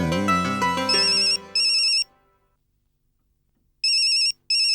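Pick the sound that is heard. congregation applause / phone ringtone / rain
phone ringtone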